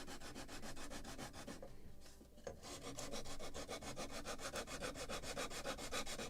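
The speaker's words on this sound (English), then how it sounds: "And now I maybe can bevel it a little." Rhythmic rasping strokes come from bevelling a small wooden part for the deck of a Model Shipways kit of the 1776 gunboat Philadelphia, quiet and close, steady back-and-forth with a short pause in the middle.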